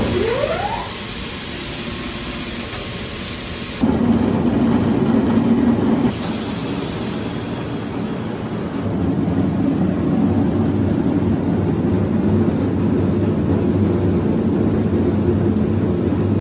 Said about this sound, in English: I'll go ahead and start the mill and it'll run until that bin is full out back and shut itself down automatically